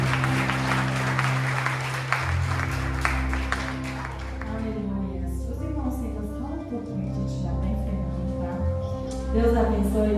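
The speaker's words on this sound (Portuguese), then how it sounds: "Quantos podem aplaudir o Senhor?" Applause from a church congregation, clapping that fades after a few seconds into sustained music with voices over it.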